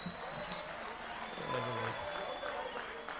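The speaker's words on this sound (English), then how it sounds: "So a big round of applause for the chair." A crowd at a provincial ANC party conference applauds the chair, a dense wash of clapping mixed with voices and cheering from the hall.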